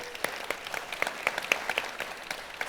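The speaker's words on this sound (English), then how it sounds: "Let's give them a round of applause, please." Applause from the audience at a B2B business summit session, thanking two guests. Light, fairly quiet clapping from a modest crowd, with individual hand claps popping out unevenly over a soft, continuous wash.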